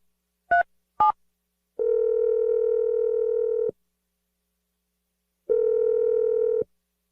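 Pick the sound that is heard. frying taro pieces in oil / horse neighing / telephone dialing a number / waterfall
telephone dialing a number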